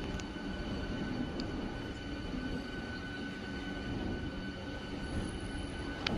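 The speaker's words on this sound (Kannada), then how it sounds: "5 ನಿಮಿಷ ತಡವಾಗಿ ಪ್ಲ್ಯಾಟ್ಫಾರಮ್ ನಂಬರ್ 7ರಿಂದ ಹೊರಟಿದೆ ಬಂಗಾರಪೇಟೆ ಮೆಮು ಟ್ರೈನ್" Steady rumble of a MEMU train departing platform 7, rolling along with a faint tonal whine and occasional sharp clicks, continuous throughout without voices.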